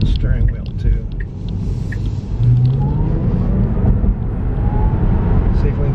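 Heavy road rumble and wind noise from a Tesla driving at speed fill the cabin in a loud, continuous wash, with a faint rising motor whine and people talking.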